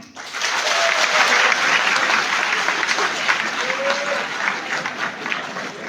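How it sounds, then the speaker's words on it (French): Sustained applause from a conference audience, dense and steady throughout, close and loud, with faint voices mixed in. "moi je n'aime pas les applaudissements"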